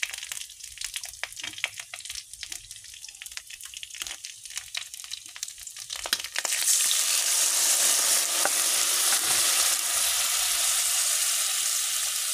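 Spices tempered with ginger-garlic paste, cumin, mustard, panch phoron and dried red chilli crackle and are stirred in a pan, then water is poured in and bursts into a loud, steady hiss of sizzling that lasts to the end.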